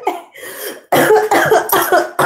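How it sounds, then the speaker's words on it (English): A person coughs several times close up, a short cough followed by a burst of harsh, throaty coughs and throat clearing. "While I'm coughing all on you"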